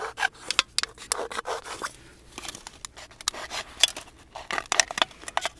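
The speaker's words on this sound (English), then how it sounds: "I'm going to cut the can in half just above" An aluminium drink can being cut in half for a homemade camping stove: irregular scraping, crunching and snipping bursts of thin metal, close and fairly quiet, with brief pauses between cuts.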